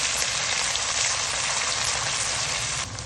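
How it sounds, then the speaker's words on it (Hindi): Garlic, ginger and onion sizzle loudly in a hot pan of oil, a dense, steady frying hiss that drops slightly just before the end. No one speaks. "लहसुन और अदरक फ्राई हो गया, मैं इसमें डालती हूँ प्याज"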